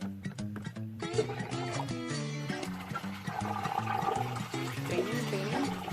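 Mini washer draining rinse water after washing merino fleece, a continuous gurgling, flushing rush of water heard close up over a steady machine hum for several seconds.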